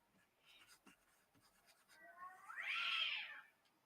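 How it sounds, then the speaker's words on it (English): A cat meows loudly and drawn-out near the end, a rising and falling yowl after softer scattered sounds, heard during a livestream. "Can you guys hear that cat?"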